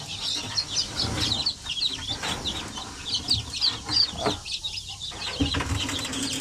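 Days-old purebred Basilan chicks peep and cheep continuously in a brooder setting, a busy chorus of high chirps with occasional wing flutters and handling noises close by.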